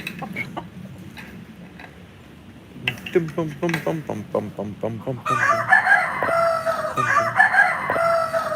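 Chickens in a farm chicken area cluck in short bursts, followed by a rooster crowing loudly and nearby in a long, drawn-out call, with another crow overlapping as the clucking continues.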